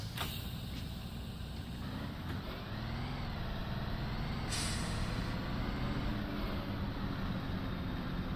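Truck in a driving video game with its engine fan clutch roaring, a steady loud whooshing drone over the engine's low rumble that wavers slowly and swells briefly with a hiss midway, continuous and close, with no voices.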